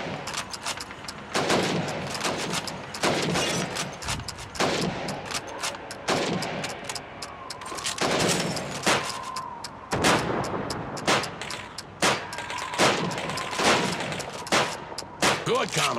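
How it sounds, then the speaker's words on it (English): Repeated loud rifle shots fired at helmets in Call of Duty 2, spaced roughly a second apart at a steady rhythm, with faint voices between some shots. "You have 15 seconds to shoot the helmets."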